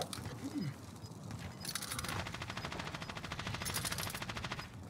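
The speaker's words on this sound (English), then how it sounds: "Use that airstrike." Rapid automatic gunfire from the video game Call of Duty Warzone, a dense continuous rattle of fast shots that dominates the mix, with a short burst of other noise before the firing takes over.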